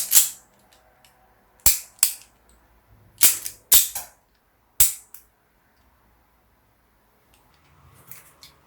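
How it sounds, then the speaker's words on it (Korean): Miniature single-action replica pistol, a small model gun, cycling and ejecting dummy rounds: sharp metallic clicks and snaps, one alone then pairs, spaced over several seconds and close up, followed by faint handling rustle. "아무것도 발사는 못해도 역시 탄알 배출을 즐길 수 있습니다"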